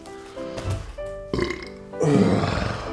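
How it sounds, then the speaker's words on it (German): A loud, drawn-out human burp with a low, rattly gurgle, rising into a rougher belch toward the end, close and alone with no talk over it. "Ich muss rülpsen."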